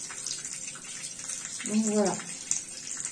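Hot tap water running while a small makeup sponge is rinsed in a sink, a soft steady splash with a brief louder gush, a person speaking briefly.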